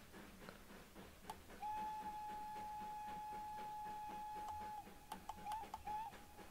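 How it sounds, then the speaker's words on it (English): A steam locomotive whistle in Train Sim World 3 on a Derbyshire steam route sounds one long steady blast with short toots after it, faint and echoing over quiet rhythmic rail clatter. "you can sort of hear a bit of an echo to the whistle"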